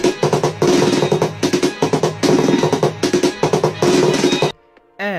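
Rapid drum hits from the Taiko no Tatsujin rhythm game on Wii, loud and dense, in quick bursts and rolls over game music for about four and a half seconds before cutting to near silence.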